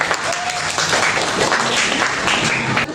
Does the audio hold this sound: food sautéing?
no